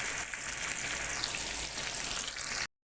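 Chicken panée cutlets fry in hot oil, a steady, even sizzle that holds at one level for under three seconds and then cuts off abruptly, with no voices over it.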